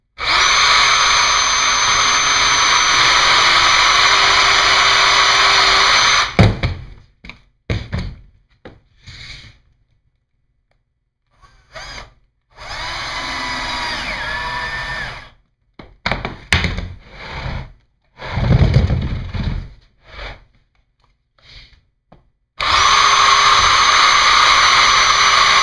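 A power drill pre-drills screw holes into an exterior post wrap, whirring in several short bursts of varying length with quiet pauses and small knocks between them, close and loud.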